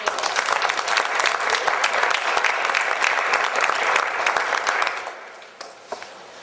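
A school audience applauds students at a classroom robotics evening, a full, even round of clapping that fades out near the end, leaving a few scattered claps and faint room noise.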